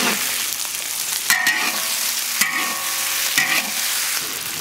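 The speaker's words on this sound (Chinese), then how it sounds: "来爆炒" Live shrimp stir-fried with ciba chili paste give a dense sizzle and crackle, punctuated by several sharp spatula strikes and scrapes against the pan in an uneven rhythm.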